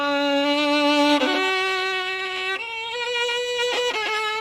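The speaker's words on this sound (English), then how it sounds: "If you have a slow bow, you cannot put as much pressure as you did, because then you'll scratch." A violin drawn with a slow bow and too much pressure gives a rough, scratchy sustained tone across a few long bow strokes, close and continuous with no talk.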